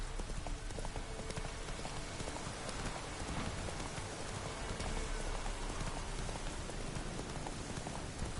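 Roach, a horse in The Witcher 3, galloping with dense clip-clop hoofbeats blended into a steady rain-like wash, close and fairly loud throughout.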